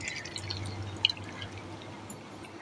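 Water poured into a mixer jar holding carrot and beetroot pieces: a soft, quiet trickle and a few drips, close by, with no talk over it.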